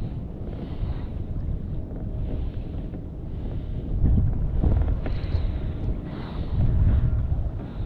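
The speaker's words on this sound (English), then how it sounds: "The wind just picked up." Wind rushes over open water near a fishing boat, a steady roar of gusts buffeting the microphone that swells louder twice midway through, with no one speaking.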